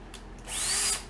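A power drill spins up on its slow, low-speed setting, driving an iGrip stud screw into a 1.6-inch Cobra snowmobile track on a Polaris Assault. It gives one short rising whine that lasts about half a second, then stops.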